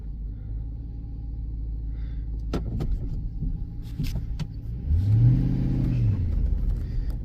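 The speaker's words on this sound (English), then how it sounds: "I'm sitting on ice right now. Let's go ahead and put it in four-wheel drive." A Dodge dump truck sitting on ice in four-wheel drive idles with a low rumble, then its engine revs up and rises in pitch before settling, loud and close, with a few clicks and knocks along the way.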